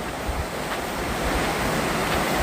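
Strong rushing water at a campsite waterfall, a dense continuous roar with a low rumble and no pauses, close to the microphone and without talk.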